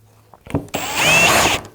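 A cordless power tool running on a battery that has not been pre-cooled. It starts with a couple of short clicks and bursts, then whines loudly and steadily for about a second before stopping.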